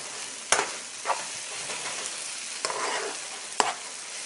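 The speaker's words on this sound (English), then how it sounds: "I'll turn down the heat a little bit to like medium heat. And I'll go ahead on and mix these together." A soy chorizo mixture sizzles steadily in a pan over medium heat while a utensil scrapes and stirs it in several distinct strokes. Nobody speaks.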